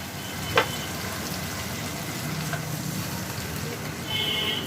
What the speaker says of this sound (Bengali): এর মধ্যে দিয়ে দেবো আমি পরিমাণ মতন জল